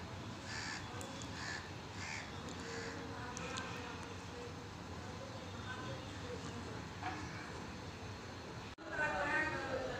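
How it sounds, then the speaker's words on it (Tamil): Two crows at a water dish on a terrace, cawing in short repeated bursts while a person speaks over them, with a sudden louder rustle near the end. "ரெண்டு காக்கா தண்ணி குடிச்சிக்கிட்டு இருக்கு"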